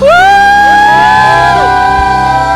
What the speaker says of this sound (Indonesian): Boleh sekali lagi kakak dengar sorakannya.